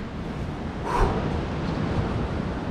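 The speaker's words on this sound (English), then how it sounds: "Waves are pumping for wompering right now." Ocean surf at a left-breaking slab reef in Nicaragua, a steady broadband wash of waves with one swell of breaking water near the one-second mark, no voices.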